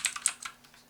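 A handful of soft computer keyboard keystrokes, quiet and close, tapping out a brief word in a sparse run that fades away.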